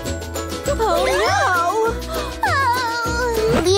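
A cartoon cat gives two or three drawn-out, sliding meows, each rising and falling in pitch and clearly voiced by a performer, over steady background music.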